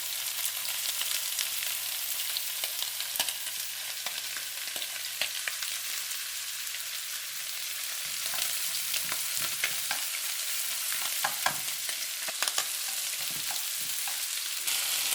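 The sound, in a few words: ginger and garlic frying for pork curry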